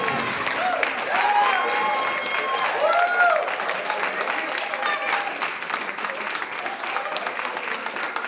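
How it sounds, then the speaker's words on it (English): Live audience applause with scattered cheers at a band's performance, steady clapping filling the space while a voice speaks over it. "Give a round of applause."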